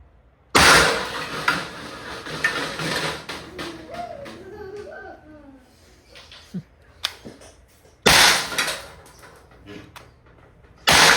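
A SOLID TR50 .50 caliber airgun revolver, pressure-charged, fires sharp loud shots: one near the start and one at the end, with a further shot at about 8 seconds and quieter clicks and handling between them.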